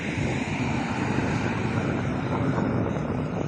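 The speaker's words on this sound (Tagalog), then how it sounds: "Pero mahangin, ang sarap ng hangin ah." Steady wind rushes and buffets the microphone with a constant low roar, no voices heard.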